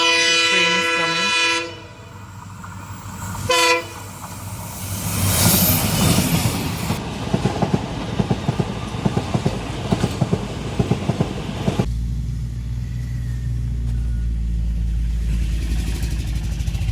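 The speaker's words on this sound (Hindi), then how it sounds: "Train is coming." Train in the Dooars foothills sounding a loud multi-tone horn, then rumbling past with rhythmic wheel clatter over the rails, close and loud, fading into a low steady roar.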